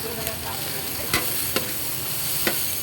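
Stir-fried cabbage with tofu and chili being stirred in a pan, a steady loud sizzle broken by a few sharp scrapes and knocks of the utensil against the pan.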